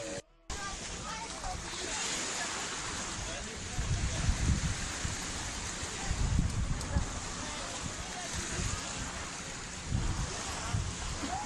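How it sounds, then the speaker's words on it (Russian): Sea waves break and wash onto a beach under steady wind, with surges swelling every few seconds and people talking nearby. "Вот мы уже на море."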